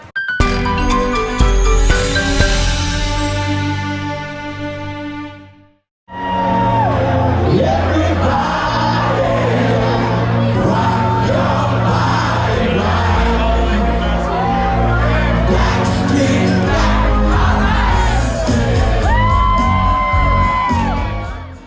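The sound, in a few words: crowd in jam-packed New Orleans beer garden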